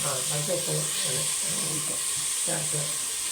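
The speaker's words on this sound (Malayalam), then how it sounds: "സബോള നന്നായിട്ട് വഴറ്റി കിട്ടണം അല്ലേ ഒന്ന് കളർ മാറി വരണ്ടേ" Onions with salt sautéing in a pan for Kerala-style pork curry, a steady loud hiss and sizzle running throughout beneath someone talking.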